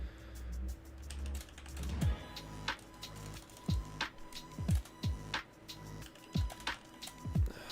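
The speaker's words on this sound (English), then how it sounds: "Let me finish typing this." Someone types on a computer keyboard, a quiet, close run of irregular key clicks with occasional heavier keystrokes, heard alone without speech.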